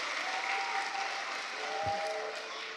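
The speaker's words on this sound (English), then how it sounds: "give them a huge round of applause," An audience applauds before an elementary school play, giving a dense, even wash of clapping from a crowd at moderate distance, steady for a few seconds.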